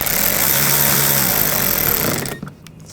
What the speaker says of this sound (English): Push it in and put these screws in.